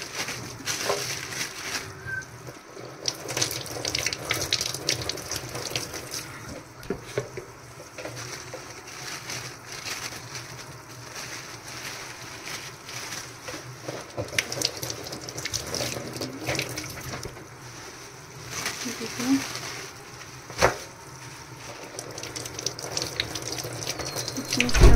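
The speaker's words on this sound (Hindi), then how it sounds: "ये मैंने मटन धोया, पहले साफ़ किया, अब मैं इसको अच्छे से धो रही हूँ मटन को" Mutton being washed by hand under a running kitchen tap in a home kitchen, a steady stream of water splashing with occasional handling clatter and brief louder sloshes throughout, no talk.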